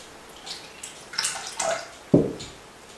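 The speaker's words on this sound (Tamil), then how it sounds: "கொஞ்சம் கொஞ்சமாக தண்ணி சேர்த்து முயற்சி பண்ணி பாருங்க." Water splashes in a few quick pours and drips into a thick batter for homemade spring roll wrappers, close and quiet, with one heavier plop near the end.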